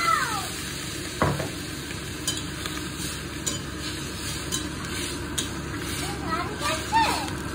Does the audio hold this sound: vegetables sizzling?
yes